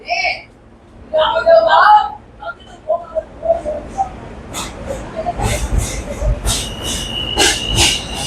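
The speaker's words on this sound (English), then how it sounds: "The J train over here, sir." A New York subway J train rumbling and clattering past with metallic squeals, preceded by scattered voices and bird chirps in a busy station.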